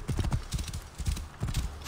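Horse hooves clip-clop in a quick steady rhythm while riding in Assassin's Creed Origins, close and clear with no talking.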